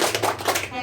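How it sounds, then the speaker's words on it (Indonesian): A group of participants in a training session claps for Ibu Rahmawati, a short burst of several loose, moderately loud hand claps that fades out in under a second. "Tepuk hebat dulu untuk Ibu Rahmawati."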